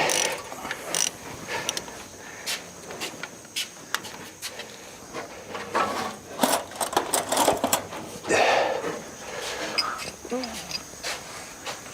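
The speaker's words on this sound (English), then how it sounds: "hope I don't break this ratchet." A ratchet works a tight bolt on a 1946 International KB3 truck engine, giving irregular bursts of clicking and clattering metal in a shop, with people talking nearby.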